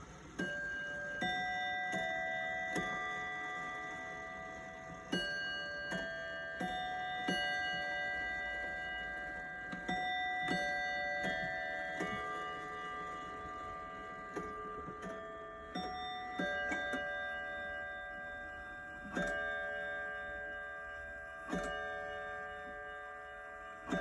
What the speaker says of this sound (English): the chimes are played on bells as opposed to chime rods, like most of my other clocks